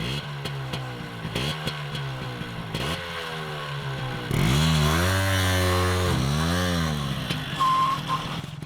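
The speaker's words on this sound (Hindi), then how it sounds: "शंकर, तुम्हारे कार्बोरेटर ठीक करने के बाद पर लीटर का एवरेज तो ठीक हो गया है, लेकिन पिकअप नहीं मिल रहा यार। एक्सीलेटर दे।" A car engine with a freshly repaired carburetor revs up repeatedly as the accelerator is pressed, its steady drone climbing and falling in loud surges that build toward a stronger, sustained roar midway before easing back.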